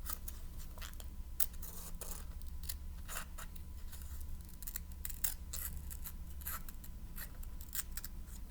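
Scissors snip along drawn lines on paper in a steady series of crisp close cuts, quiet and unaccompanied by speech.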